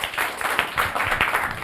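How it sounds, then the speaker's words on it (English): Classroom audience clapping for a student during a talk show on global education, a brisk burst of many overlapping hand claps with no voices. "Clap for him."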